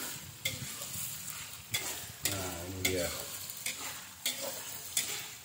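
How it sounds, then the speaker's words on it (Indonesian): Blended spice paste stir-fries in hot oil for potato sambal goreng, sizzling steadily with repeated scraping stirs of a spatula in the pan, close up; a voice briefly speaks. "Nanti minyak ini juga saya pakai ya buat menggoreng bumbu-bumbu yang udah saya blender."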